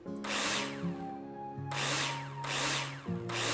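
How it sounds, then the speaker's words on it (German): Power drill driving screws into plasterboard in the Builder Simulator video game, three close whirring bursts, each rising in pitch as the screw runs in, separated by short pauses. "Take your drill out and screw them in."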